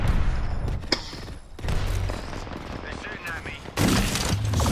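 Gunfire from enemy players in the Apex Legends video game, several loud bursts of shots in quick clusters with booming impacts, a voice talking over parts of it.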